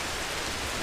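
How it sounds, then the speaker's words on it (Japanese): Heavy rain pours down at night in a forest during a thunderstorm, a dense, loud, even hiss of water with no breaks. "雨がすごいな"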